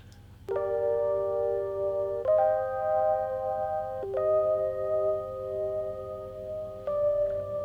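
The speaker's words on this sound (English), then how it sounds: "these are from the Neo Rhodes setting in my Reface DX" Sustained electric piano chords from the Neo Rhodes setting on a Yamaha Reface DX, bell-like and mellow, changing four times at a slow, even pace, each chord ringing out without any voices.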